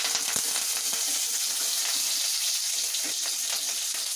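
Fenugreek seeds, vadagam and curry leaves crackle in hot oil with a loud, dense, close sizzle full of rapid spitting pops, steady throughout, with no speech.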